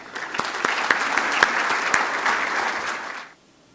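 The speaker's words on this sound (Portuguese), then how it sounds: "por favor, uma salva de palmas a Everardo Maciel" An audience at a business luncheon applauding a guest speaker, a dense steady wash of clapping from a room of people with a few sharper individual claps, fading out quickly near the end.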